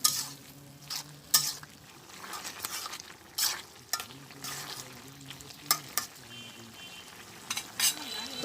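Snakehead fish frying in a pan, with a steady sizzle and repeated clatters of a spatula stirring and scraping against the metal at close range, no talk.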